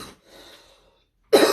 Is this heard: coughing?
yes